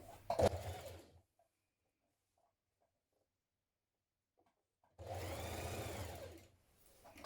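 A sewing machine stitches along the folded edge of bias tape to form an elastic casing on a summer dress, running in two steady bursts separated by several seconds of near silence.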